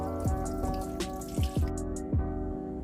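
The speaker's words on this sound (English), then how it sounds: "at the moment the reservoir is just draining all of water" Water drains from the washer fluid reservoir of a BMW E60, dripping and splashing close by in a quick run of drops that lands on a steady trickle.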